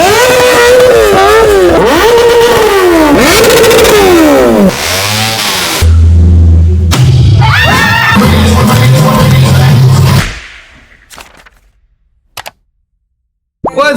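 Kawasaki Ninja motorcycle engine revving repeatedly, loud rising and falling wails heard up close, followed by deep rumbling and popping, then a sudden cut to near silence with a couple of sharp clicks.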